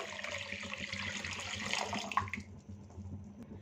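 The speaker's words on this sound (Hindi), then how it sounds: "इसमें आधा लीटर दूध शामिल कर देते हैं" Half a litre of milk pours into a chicken karahi as a steady liquid splash for about two seconds before cutting off, leaving a faint room hum.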